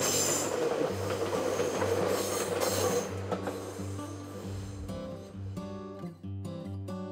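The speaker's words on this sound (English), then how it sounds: "Tenku gently departs for Mt.Koya, a difference in altitude of 443 meters." The Tenku sightseeing train pulls away on the line toward Mt. Koya in Wakayama, with a low rumbling hum and clattering wheels that give way to sustained tonal wheel squeals and ringing as it moves off.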